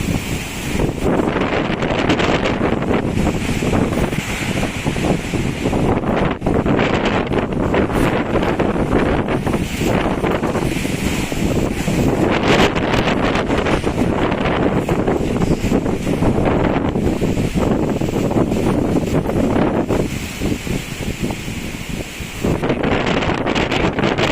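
Typhoon wind in Quezon Province blows in strong, continuous gusts, roaring and buffeting the microphone, loud and unbroken for about twenty-four seconds with no speech.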